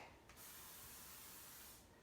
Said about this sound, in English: take your cookie sheet and spray it with some cooking spray